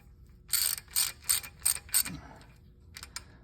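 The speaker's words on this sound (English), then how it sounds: "And we're gonna torque that down too." A torque wrench tightens bolts on a timing cover after an O-ring replacement, giving a series of five quick close ratcheting clicks, then a pause and two more faint clicks.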